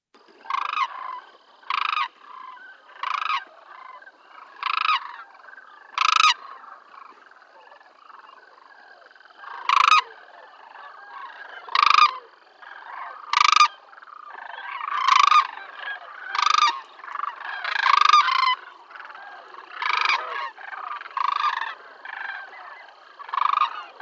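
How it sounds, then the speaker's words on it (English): Sandhill cranes in Kentucky give a series of loud, rolling bugling calls, short bursts repeated every second or two, some overlapping as several birds call together, with no other sound between. "Now we also have sandhill cranes that will pass through here in Kentucky as well."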